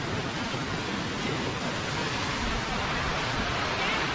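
Waterfall on a forest trek near Tenkasi, a dense, steady roar of rushing water that fills the sound evenly and close by, with no pauses or breaks.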